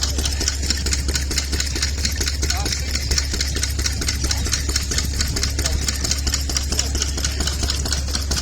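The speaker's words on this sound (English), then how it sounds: "some little pump engines." Small vintage stationary pump engines run at an outdoor vintage show, a steady rapid mechanical chugging and knocking that continues throughout at moderate level with no pauses.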